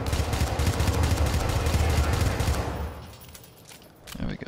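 Rapid, dense gunfire from the video game Syndicate rattles loud and continuous for nearly three seconds, then cuts out, with a few scattered later noises.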